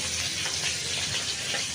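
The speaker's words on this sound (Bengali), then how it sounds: "মাছের মাথা ভাজছি" A fish head frying in a pan, a steady dense sizzle with crackling spatter, close and continuous, no voices over it.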